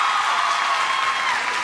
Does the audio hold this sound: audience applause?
yes